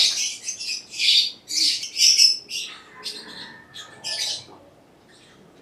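Young aviary chicks squawk at close range before leg banding. The harsh calls come in quick bursts, loud at first, then fade into softer, scattered squeaks.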